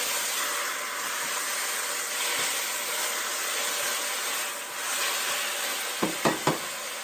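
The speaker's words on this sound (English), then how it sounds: "Hear that sizzle." Squash tossed into a hot pan with onions gives a loud, steady, close sizzle throughout, with a few sharp utensil clanks near the end.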